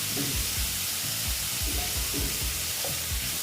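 Salted, squeezed bitter gourd pieces land in a hot pan, giving a steady, close sizzle and crackle with soft stirring scrapes throughout, and no talk.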